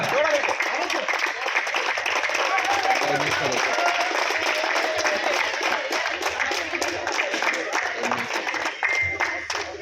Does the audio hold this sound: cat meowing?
no